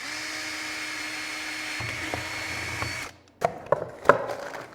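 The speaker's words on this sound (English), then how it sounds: "I can pre-drill and I can always take the screw out later" A power drill whines steadily for about three seconds while pre-drilling a screw hole in glued woodwork, then stops, followed by a few sharp knocks and clatters.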